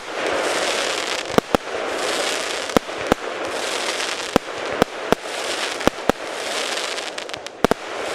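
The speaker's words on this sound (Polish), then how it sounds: "nie aż tak wysoko strzela, ale jak na 25 mm, nawet duży efekt. Strzela po dwa pociski." A TXB084 Equalizer 25 mm firework cake fires shells two at a time, sending out sharp repeated bangs and pops at irregular intervals over a continuous hiss and crackle, heard from a moderate distance outdoors.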